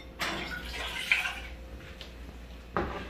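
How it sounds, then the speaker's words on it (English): A cup of hot water poured into a pan for syrup over medium heat, heard as two close splashy pours with faint trickling in between, and no voices. "The syrup, in medium heat, we will add 1 cup of hot water"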